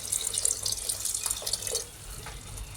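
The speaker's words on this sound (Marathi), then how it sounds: "आता मी थोडं गरम पाणी टाकते" Hot water pours into a pressure cooker of chicken curry with a steady splashing gush up close that eases near the end, with no voices.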